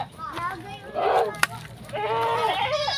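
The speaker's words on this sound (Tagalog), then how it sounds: "may mga alaga sila ditong kambing, dami" Goats kept as livestock in a hillside village bleat several times in wavering cries, fairly close, mixed with children's voices and talk nearby.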